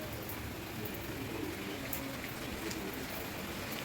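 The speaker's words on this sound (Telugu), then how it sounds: "ఫుల్ వర్షం అనమాట బాగా వస్తుంది" Steady rain falls with a constant, even hiss, fairly close, with no voices.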